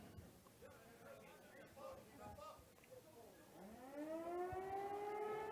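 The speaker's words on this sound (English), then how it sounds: "we're going to get the noon siren" A noon civil defense siren winds up and swells over a high school soccer match, rising into a loud sustained wail above distant crowd chatter and commentary.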